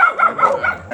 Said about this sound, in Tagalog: mga asong tumatahol